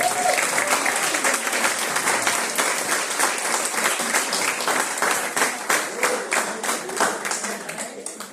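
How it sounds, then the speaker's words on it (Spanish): A church congregation applauds during a Sunday sermon, a dense sustained clapping that holds steady for several seconds before tapering slightly toward the end, with no talk over it. "Fuerte el aplauso al Señor."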